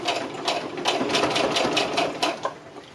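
A sewing machine stitches fabric for a scrunchie, running in a close, fast, steady mechanical whir of needle strokes for three seconds with no talk.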